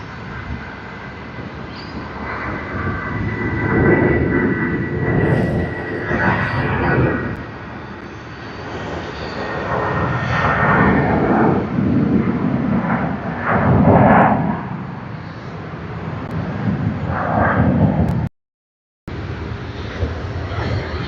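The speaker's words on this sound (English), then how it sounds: "Meanwhile, let's capture the landing, the touchdown." Jet airliner landing at Sydney Airport, a steady distant roar with rumbling swells as it touches down, heard alone outdoors without talk.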